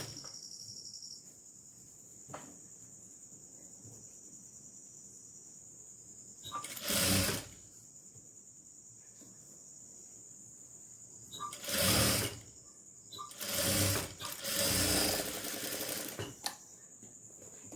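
Sewing machine stitching layered fabric strips in several separate bursts, each a few seconds long, with quiet gaps and a faint steady whine between runs, close to the listener.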